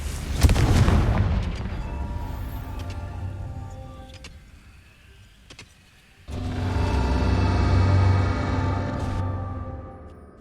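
A Confringo blasting curse explodes in Hogwarts Legacy, first as a loud burst that fades over several seconds, then after a quieter gap as a second sustained roaring blast.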